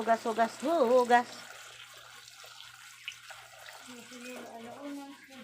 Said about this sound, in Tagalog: Atin huhugasan ng sitaw.